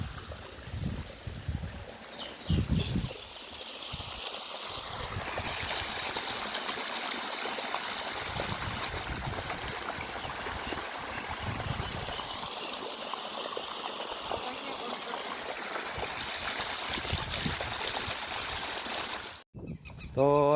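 Irrigation water flowing steadily through furrows in an onion and carrot field, a continuous rushing trickle throughout with brief voices near the start and a clatter at the end.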